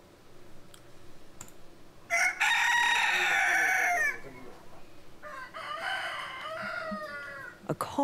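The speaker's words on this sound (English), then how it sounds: "A chorus of roosters greets the new day." Roosters crow at dawn in a village in India, two long, loud calls separated by quieter farmyard background, with faint clucks and clicks scattered around them.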